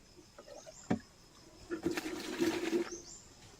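Water sloshes and splashes in a container, a short gurgling burst after a faint knock, fairly close and quiet.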